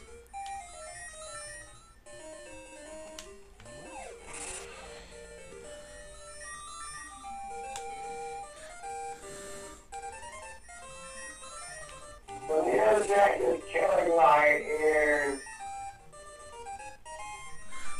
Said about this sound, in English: It's the music from Zelda.